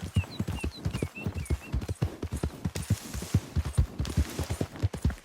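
A ridden horse gallops in Red Dead Redemption 2, its hoofbeats a steady, rapid clip-clop pounding close by with a few brief vocal bursts from the rider over the top.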